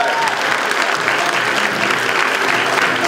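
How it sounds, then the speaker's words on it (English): Hearty audience applause at a student-of-the-year event, continuous dense clapping from a large crowd. "We want to give him a hearty round of applause."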